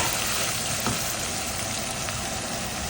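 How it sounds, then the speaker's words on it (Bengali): Onion and garlic fry in a pan for a chana dal dish, a dense continuous sizzle filling the moment without talk. "পেঁয়াজ রসুন ভাজা হয়ে গেছে।"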